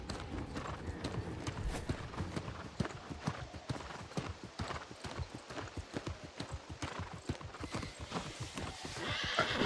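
Horse hooves clip-clop steadily in the video game New World Aeternum while riding over bridges, a fast continuous rhythmic trot, close and loud, with a brief whinny-like sound early on.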